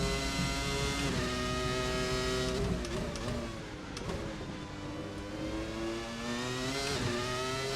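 A 1997 Formula One car's V10 engine screams under acceleration in a racing video game, a steady high-pitched whine climbing through several gear changes with brief dips between shifts.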